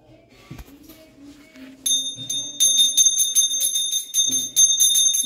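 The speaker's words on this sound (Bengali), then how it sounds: "আবার নিয়েছে ঘন্টাটা" A small brass-toned prayer hand bell rung by a child in a home shrine, starting after a soft low knock and then ringing in quick, uneven repeated jingles, loud and close, with faint voices at the start.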